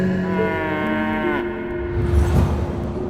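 A water buffalo, or carabao, gives a long, loud, close moo with a rising and falling tone, followed by rougher low grunting noises near a bathing spot by the water.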